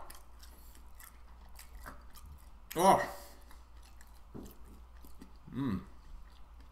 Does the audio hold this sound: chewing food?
yes